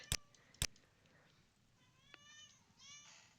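A faint cat meow in the game Morrowind, a drawn-out, wavering cry near the end, comes after two sharp clicks over quiet background hiss.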